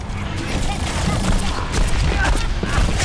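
Rapid bursts of gunfire in the Overwatch video game, aimed at the hero Lucio, crackle steadily through a dense wash of game noise for about three seconds.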